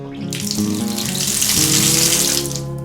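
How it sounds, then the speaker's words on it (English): Water runs steadily from a Toto Soiree hand shower being tested after a leak repair, a broad continuous hiss of flow that swells and holds for a few seconds, close and loud, with no talking. "I'll ask someone to turn on the water."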